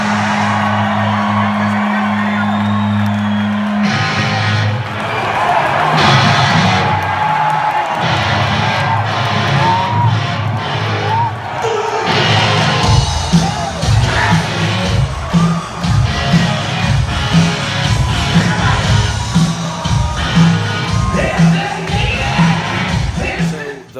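Live rock concert captured from within the audience, loud amplified band blurred by hall echo, with a crowd cheering, whooping and shouting throughout, nearby voices close to the recorder.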